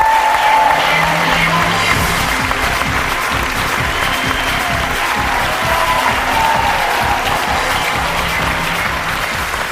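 Sustained applause from a large audience, dense and steady clapping that fills the whole stretch without letting up.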